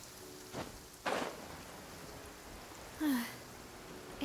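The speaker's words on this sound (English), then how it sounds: "It's raining again." Rain falling in the video game Genshin Impact, a soft constant patter with faint low rumbles, plus a brief voice-like sound and a couple of short splashy bursts.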